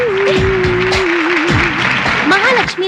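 A crowd claps at a college stage event as a prize is handed over. Broad, continuous applause runs underneath a louder tuneful voice and music that dominate the foreground.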